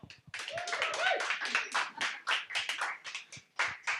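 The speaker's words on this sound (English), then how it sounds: "All right, guys, a round of applause for our last panel." An audience applauds a final panel at a fireside chat event, steady clapping from many hands with voices and cheers mixed in, fairly close and continuous for about four seconds.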